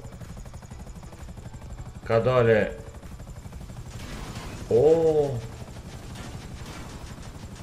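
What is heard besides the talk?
helicopter in the video game GTA 5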